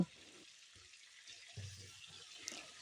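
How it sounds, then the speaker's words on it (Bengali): Cauliflower florets and potato pieces with a little salt frying for vegetarian biryani, giving a low, steady sizzle with faint stirring scrapes, fairly quiet and without talk. "ফুলকপি আর আলুগুলোকে অল্প একটু নুন দিয়ে এপিটপিট একটু লাল লাল করে ভেজে তুলে নেব"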